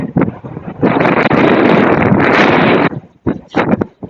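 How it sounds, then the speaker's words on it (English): Strong wind roars and buffets the microphone in a loud, sustained blast, easing briefly before gusting again in shorter bursts. "It's a lot windy, windier than usual."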